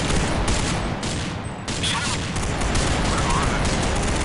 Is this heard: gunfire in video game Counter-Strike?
yes